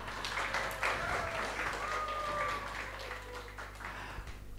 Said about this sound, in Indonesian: Boleh sekali lagi tepuk tangannya.